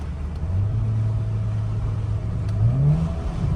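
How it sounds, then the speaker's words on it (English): A hand-controlled turbocharged 300+ hp Volkswagen GTI accelerating hard under full boost, a loud steady engine drone rising in pitch toward the end, heard from inside the car. "and even in the yellow car Jeff, basically the second it hits boost, it's full boost."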